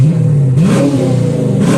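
A Dodge Challenger or Charger R/T V8 revs up close by, rising sharply from idle into a loud burst before settling into a rough, throbbing exhaust rumble.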